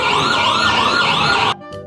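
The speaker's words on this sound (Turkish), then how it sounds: "Ambulans da varmış bu güzel şehirde." A toy ambulance blares a loud, close wailing siren that rises and falls steadily, then cuts off abruptly, followed by a faint brief chirp.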